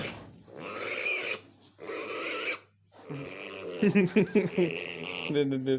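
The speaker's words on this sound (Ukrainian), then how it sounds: "От дурна свиня." A pig on a farm gives a run of close, rough grunts and snorts in bursts separated by short pauses, with a person's voice mixed in near the end.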